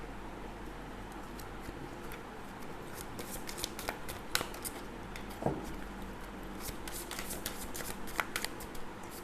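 Tarot cards shuffled for a reading, a steady close riffling patter with occasional sharper snaps and slaps, heard alone against faint room noise.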